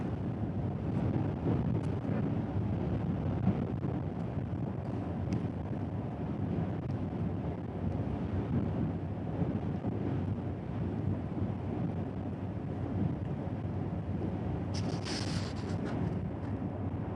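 Gusty wind buffets the microphone during a storm chase of isolated supercells in Central Texas, a constant low roar that rumbles without letup and has a brief hiss near the end.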